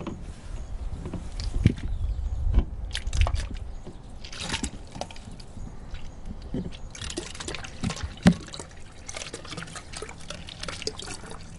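Water runs into a plastic bottle for a homemade garden watering system, giving a continuous trickling, gurgling fill with a few sharper splashy drips, fairly close and alone.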